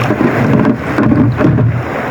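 Relentless wind and rain from a shear line storm: a loud, continuous roar with low buffeting rumble as gusts hit the microphone, swelling and easing without pause.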